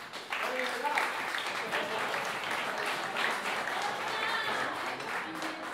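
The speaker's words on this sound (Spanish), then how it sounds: "Un aplauso para Arturo, que me va a acompañar así con la percusión." An audience at a live concert in an Ateneu claps for the percussionist, a steady burst of applause lasting several seconds at close range, with some voices mixed in.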